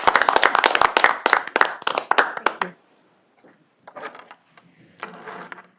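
A small group at a school board meeting claps briskly and together for a couple of seconds, then the applause thins out to a few scattered claps and quieter room sounds.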